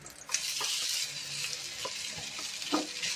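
Garlic fried rice sizzles loudly in a hot pan with a bright, constant frying hiss, broken by several scraping stirs of a spatula against the pan.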